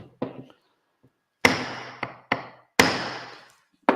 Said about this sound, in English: a couple of taps with the hammer, so watch out anybody on the headphones.